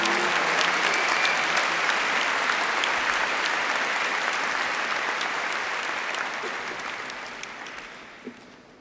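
Loud, dense applause from a large audience for engineering graduates at a university commemoration day ceremony, holding steady for several seconds before gradually fading out.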